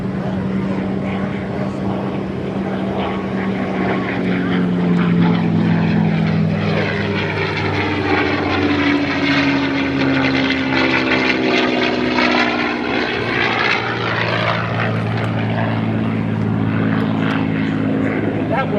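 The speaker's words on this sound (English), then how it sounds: "what would happen if we were to put one of these Merlin engines in this terrific airplane?" A P-51 Mustang with a Merlin engine flies past at the 2024 First State Airshow. A loud, steady propeller-engine drone swells and shifts in pitch as the plane passes, and an announcer talks over it.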